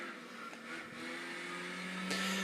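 Car engine audio from the Gran Turismo video game on PlayStation 2, a steady mid-level whir with a rising engine tone toward the end, no talking.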